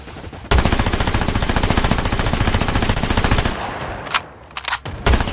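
Sustained automatic fire from an OTs gun in Call of Duty Mobile battle royale, a loud rapid burst lasting several seconds, then a few scattered separate shots.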